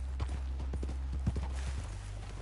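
Horse hooves clip-clop in the video game Red Dead Redemption, a quick, even gallop of close hoofbeats over a low rumbling background.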